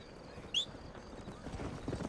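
Soft rhythmic horse hoofbeats clip-clop at a walking pace in the video game Red Dead, with a brief high whinny-like squeal early on; quiet and slightly distant.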